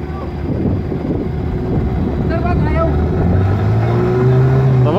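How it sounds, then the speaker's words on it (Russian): A faltering boat motor runs unevenly over wind buffeting the microphone, its pitch rising and wavering toward the end, with a voice speaking nearby. "Что-то мотор барахлит."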